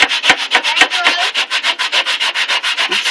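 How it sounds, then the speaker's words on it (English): Hard scrubbing of a baking-soda-coated cookie sheet pan, a fast, even rhythm of rasping strokes, close and loud with no talk. "I'm scrubbing really hard"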